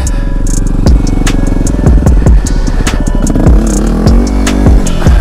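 A Yamaha WR250R dirt bike on an off-road riding area revs and surges loudly close by during wheelie practice, its engine pitch rising and falling amid rattling clatter.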